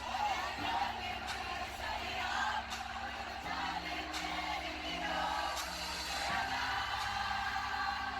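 A large crowd cheers at a performance, a dense continuous roar of screams and whoops holding at a steady level, with a sustained tone running underneath.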